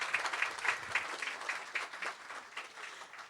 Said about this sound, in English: Can you give him another round of applause,